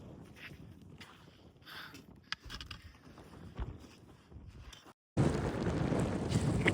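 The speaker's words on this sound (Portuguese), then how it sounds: "Muito vento." Strong gusts of wind buffet the microphone at the rim of a volcano crater, a steady roaring rush that drops out briefly and then returns louder and broader.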